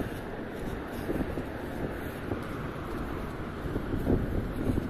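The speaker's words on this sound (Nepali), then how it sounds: "एकदम भर्खर त्यो इँटा भट्टीमा इँटा बालेको जस्तो हावा चलिरहेको छ" Hot wind blowing outdoors in Kuwait near new building construction sites rushes steadily over the microphone as a dense, continuous roar, fairly loud and unbroken.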